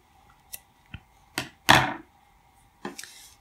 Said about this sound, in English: And I will trim it now.